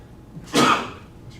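A single sharp sneeze bursts out at a public board meeting, loud and close, surrounded by quiet room tone.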